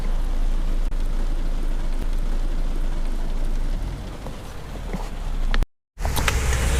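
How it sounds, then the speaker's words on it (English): Steady heavy rain pours down at a supercar show in Switzerland, a dense loud hiss with low rumble, briefly cut by a short silent gap before resuming. "So hopefully the rain will disappear in a little bit"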